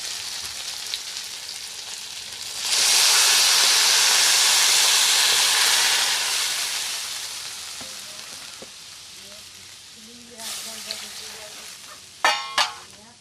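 Water goes into a pan of frying taro roots, cooked with tilapia in a curry, and sets off a loud burst of hissing sizzle that slowly fades, followed by softer bubbling and a few sharp clinks near the end.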